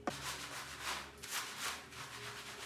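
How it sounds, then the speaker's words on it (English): Fingertips scratch a scalp of type 4 hair lathered with apple-scented shampoo, making a soft, close, continuous rubbing and scrubbing with gentle pulses of pressure. "Make sure you gently scratch your scalp to lift any dirt or product residue."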